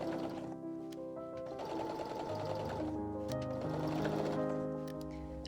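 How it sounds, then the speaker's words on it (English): A sewing machine stitches a 1 centimeter seam attaching bias binding to a maxi dress, running steadily and close throughout at a moderate level. "Sew with 1 centimeter seam allowance."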